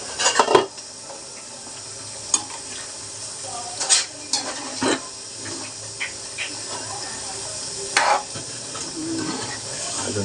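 Liver for Malvani kaleji sukka is stirred in a cooking pot with a spoon, giving scattered scrapes and clanks against the pot over a soft background sizzle and hiss.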